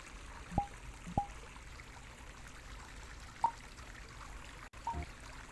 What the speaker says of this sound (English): I definitely like listening to the water.